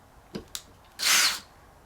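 A power drill drives a SPAX screw straight into wood without a pilot hole, giving one short, close whirring burst of about half a second after a couple of light taps.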